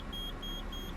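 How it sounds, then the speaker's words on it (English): Low air pressure warning on a GM 4106 bus, a steady high-pitched beep repeating three times in quick even pulses over a low engine-like rumble, with no talking. "The beeping is the low air pressure"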